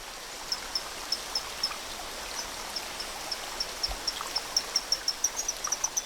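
A waterfall rushes in a constant broadband wash, with a regular series of short, high, chirping frog calls repeating over it throughout.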